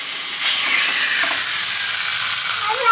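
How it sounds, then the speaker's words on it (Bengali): Fish frying in a pan for a Bengali home meal gives a steady, close sizzle and hiss that holds evenly from start to finish, with no voices. "আবু আবু আবু তোমার জন্যই ভাজা হচ্ছে।"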